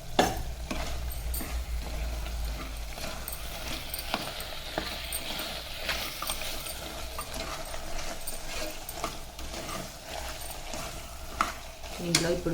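Mutton is stirred in a pan with coriander powder and garam masala, giving a steady scraping, sizzling texture that runs throughout at moderate loudness, with no talk.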